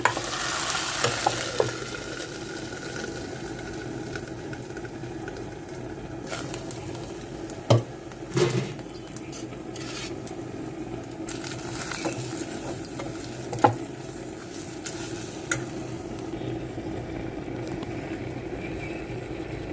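A hot tempering with dried red chillies is poured into a sesame-flour curry with the stove off, giving a soft, continuous sizzle with a few sharp clatters of the pan and spoon along the way.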